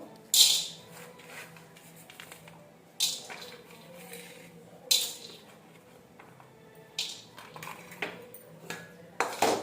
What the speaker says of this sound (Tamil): இப்போ நிலக்கடலையே வறுக்க போறோம்.